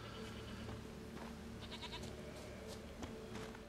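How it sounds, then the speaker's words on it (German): Goat bleating in The Witcher 3: Wild Hunt, a few short bleats over a steady bed of game ambience and background music, with no talk. "Da kommt eine Ziege auf uns zu."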